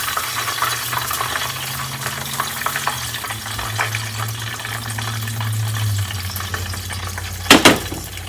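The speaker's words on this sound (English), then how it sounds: "deep frying takes a long time" Chicken deep frying in oil gives a steady close sizzle and bubbling crackle throughout, with a short clatter near the end.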